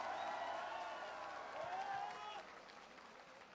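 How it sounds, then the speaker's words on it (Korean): Crowd applause with cheering welcomes former president Roh Moo-hyun home to Bongha Village, a distant, steady wash of clapping that fades partway through, with voices heard over it. "뜨거운 박수로 맞이해 주십시오."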